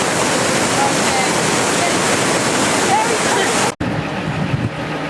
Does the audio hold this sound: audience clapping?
no